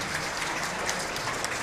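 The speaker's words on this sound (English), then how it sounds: "the crowd, very educated here, going to give a standing room only" A crowd applauds after a men's round-of-16 match at the 2009 four-wall handball world championships, a dense, continuous clapping that fills the indoor court evenly and loudly.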